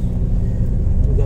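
A car engine runs close by near Kakarbhitta and the Mechi bridge, giving a brief, loud, steady low rumble.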